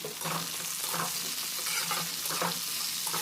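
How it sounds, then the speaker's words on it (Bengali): Potatoes cut into long strips sizzle in a pan with lightly fried onions for a drumstick and potato curry, a steady close frying hiss broken by regular stirring scrapes. "পেঁয়াজটা হালকা ভাজা হয়ে গেছে এবার আমি এর মধ্যে দিয়ে দিলাম আলু"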